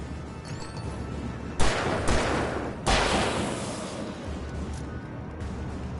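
Gunfire in the video game Alan Wake Remastered comes as a few loud, booming shots with echoing tails, spaced a second or so apart over a low background rumble.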